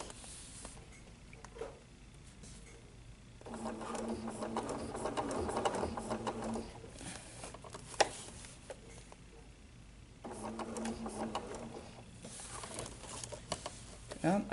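A sewing machine stitches ruler-work quilting on a table runner in two short bursts of rapid, close mechanical whirring, separated by quieter pauses, with a person talking nearby.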